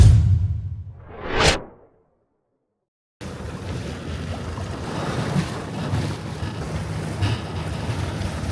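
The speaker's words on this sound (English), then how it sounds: "here we are rolling around downwind, heading on to the next island" A sailboat rolls downwind on the open sea at night on a long island passage, with a swelling whoosh of water before a brief silence, then a steady wash of waves and wind noise.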